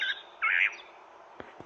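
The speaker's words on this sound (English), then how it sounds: "A robin!" A robin gives two short, bright calls near the start, then a faint pair of sharp clicks follows over quiet background.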